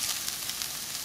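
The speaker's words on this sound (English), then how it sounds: "I'm gonna continue to cook the brisket for another 3 to 4 minutes." Brisket sizzles in a hot pan, a close, continuous hiss and crackle with small popping spurts, steady and alone for the whole brief moment.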